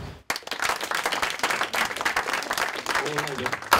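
Loud applause from a crowd fills the whole stretch, dense steady clapping with some voices mixed in near the end.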